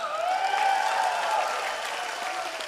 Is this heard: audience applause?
yes